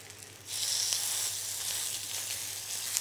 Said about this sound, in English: At the moment, I've got it on quite high heat, this pan, just to get that initial sort of instant sear of the meat.